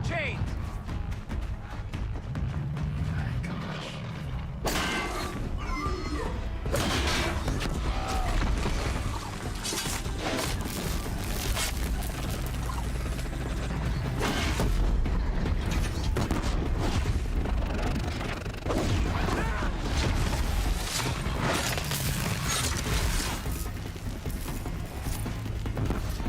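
Clanking, creaking mechanical creatures in Horizon Zero Dawn released into a fight, with rattling gears and thuds under a busy mix of game voices and effects throughout.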